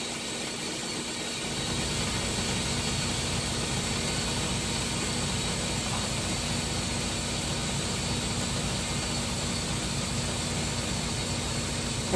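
Trailer air bag suspension inflates with a steady, broad hiss of compressed air that starts after a short quiet moment and continues evenly at moderate loudness.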